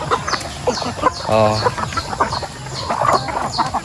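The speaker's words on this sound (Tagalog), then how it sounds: "Kunti lang yung mga manok na iwan" Farmyard chickens cluck and call in short bursts, with a hen's harmonic squawk standing out midway, while a person briefly speaks nearby.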